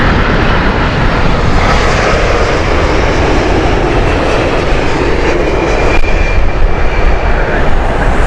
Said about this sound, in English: This beautiful aircraft is the Saudi Arabian 787 coming in from Jeddah.